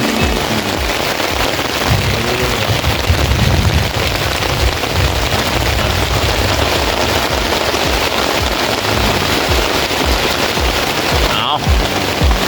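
Heavy rain pours steadily at night on an army ranger patrol in the field, a loud dense hiss of drops beating on surfaces that runs without a break, with a sharp knock near the end.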